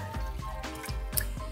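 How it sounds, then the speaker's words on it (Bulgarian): Water is poured over cooked beans in a cooking pot, giving a run of close, soft dripping and splashing sounds with a steady trickle underneath. "Добавям водичка."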